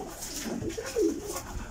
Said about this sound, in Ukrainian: Где взял таких голубей пан?